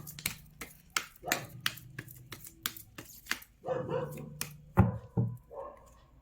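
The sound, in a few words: dog barking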